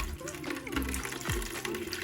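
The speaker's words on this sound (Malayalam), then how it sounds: "കർപ്പൂരത്തിൻ്റെയും കടുകിൻ്റെയും വെള്ളം ഇതിലേക്ക് ഒഴിച്ച് കൊടുത്തിട്ടുണ്ട്" Water mixed with camphor and mustard pours into a small bucket, giving a steady close splashing gush for a couple of seconds with small sloshing surges.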